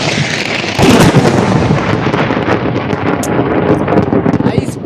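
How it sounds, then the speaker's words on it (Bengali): Thunder rumbling across the sky during a storm, a loud, deep, rolling crash that swells after the first second and keeps grumbling, with wind buffeting the microphone close by. "প্রচুর মেঘ ডাকছে আকাশে।"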